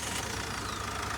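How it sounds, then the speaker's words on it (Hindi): A Mahindra Scorpio Classic SUV's diesel engine chugs close by with a steady, knocking idle, continuous and fairly quiet. "स्टार्ट करना भाई इसको, इस इंजन को"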